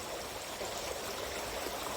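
Water runs along the Bang Phai canal at the edge of a forest, a soft, continuous trickling flow heard faintly and steadily with no voices over it.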